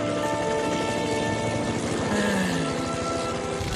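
Helicopter flying overhead in a Simpsons cartoon scene, a loud, steady rotor drone and whir that fills the whole stretch, with a brief tonal swoop partway through and no clear speech.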